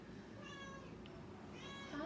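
Two quiet meows, spaced apart, sound like a person mimicking a cat, with faint room noise between them.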